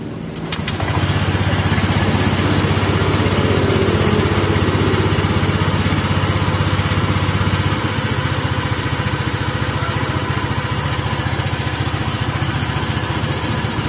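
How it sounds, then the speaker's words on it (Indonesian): A Honda Vario 125 scooter engine with a faulty thermostat sputters to life after a short moment, then settles into a loud, steady idle close by, running on with no talking. "Coba hidupkan motor tadi."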